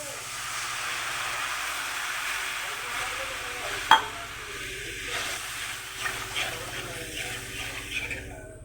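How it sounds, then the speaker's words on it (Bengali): Fish curry broth boiling in a pan gives a steady soft hiss and bubbling throughout, with a sharp clink near four seconds and light stirring and utensil sounds afterward. "এখন ঝোল ফুটে গেছে"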